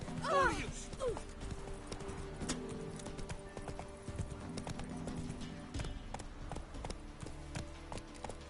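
A horse in The Witcher video game gallops with rapid clip-clop hoofbeats and gives a whinny near the start, while a voice speaks briefly over the hooves.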